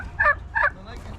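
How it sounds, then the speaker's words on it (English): Two short, loud gobbles from turkeys caged at a flea market, close by and evenly spaced, followed by a faint third call. "Look at these turkeys."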